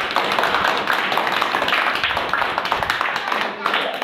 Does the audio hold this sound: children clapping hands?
yes